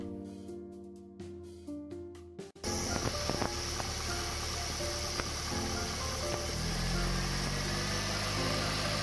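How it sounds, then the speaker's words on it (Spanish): A car engine heard through an old 1980s diagnostic scanner hookup, running steadily after a brief clicking start, with the engine note shifting in speed as the revs change. "cambiaban las revoluciones en el motor"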